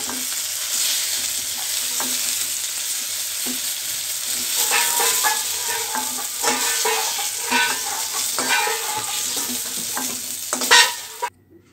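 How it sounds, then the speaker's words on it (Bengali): Eggplant frying in hot oil in a wok, a continuous close sizzle with repeated stirring scrapes and clatters, ending abruptly. "বেগুনটাও ভালোভাবে ভেজে নিতে হবে।"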